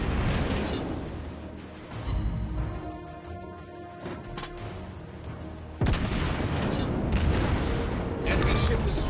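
Naval gunfire and explosions in the game World of Warships Blitz, dense rumbling booms and blasts with heavy low-end roar, a loud surge of fire midway, and a game voice speaking over it.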